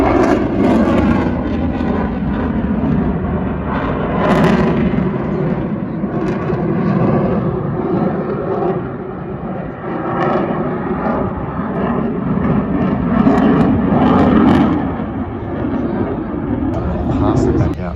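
Fighter jets and planes roar overhead at the 2019 RAAF Edinburgh airshow, a loud, sustained engine noise that rises and falls in waves, with a voice speaking underneath.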